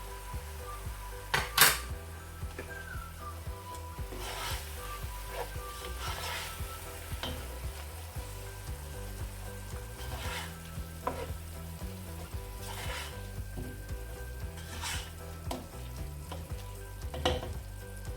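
Spices frying with half a tablespoon of turmeric powder in a pan for an aloo methi sabzi, a continuous sizzle with intermittent stirring scrapes and clinks.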